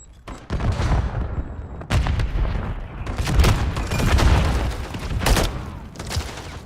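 Rapid bursts of video game gunfire in a multiplayer shooter match, loud and dense with repeated shots and booming impacts over several seconds and no talk.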